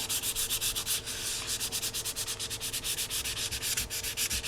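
Rapid, rhythmic rasping strokes of 400 grit sandpaper rubbing carbon fiber strips on a model rocket, close and steady, with no talking.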